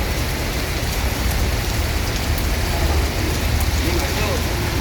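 Steady, dense rain pours outside a bus at a Palembang ticket office, a continuous loud hiss with scattered drops striking the surface, and faint voices beneath.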